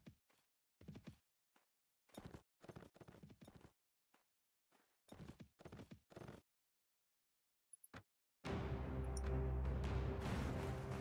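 Horses gallop in Mount & Blade Warband, a medieval combat game, as a run of close, irregular hoofbeat bursts separated by short silences, followed by a loud, dense battle din that fills the final few seconds.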